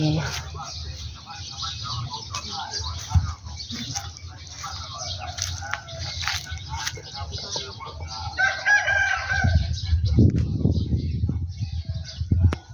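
A rooster crows in the distance over outdoor ambience, with a person talking nearby toward the end.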